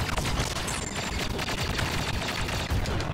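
Rapid blaster fire in a Star Wars Battlefront Capital Supremacy match: a continuous, dense stream of loud shots and crackling impacts with no break, for about three seconds.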